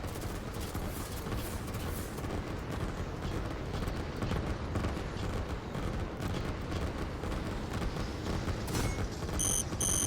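Artillery pounding away in a Line War real-time strategy battle, a steady wash of distant booms and rumbling impacts blending into continuous battlefield din, fairly soft, with a few faint beeping interface tones near the end.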